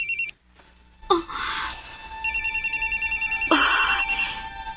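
A cellphone rings with a trilling electronic ringtone, repeated pulsed bursts that sound close and loud, starting, pausing briefly and then ringing on steadily.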